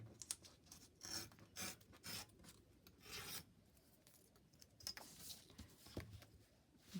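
Strips are torn from glossy magazine pages in a series of short, close, rasping rips with brief pauses between them, quiet and without talk.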